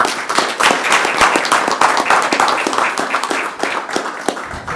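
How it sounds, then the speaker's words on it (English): County board meeting audience giving a round of applause, crisp individual claps blending into a dense, fairly loud burst that holds steady then tapers slightly. "Please give her a round of applause."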